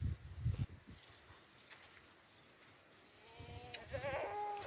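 A few thumps and shuffling, then a Kathiawari goat lets out a wavering bleat nearby, clear over faint background noise.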